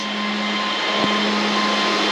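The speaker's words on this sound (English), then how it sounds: "You can hear my servers coming up there." Computer servers powering up: loud, steady whirring roar of fans with a constant low hum, close and unbroken throughout.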